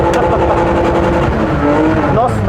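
A car drifting on a track, the engine roaring loud and close under throttle with tire noise, while a voice talks over it throughout.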